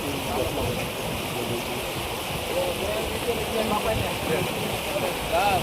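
Water rushes steadily past a collapsed village bridge near Kolar, a constant close flowing wash with a faint voice now and then underneath.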